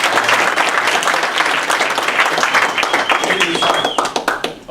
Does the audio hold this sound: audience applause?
yes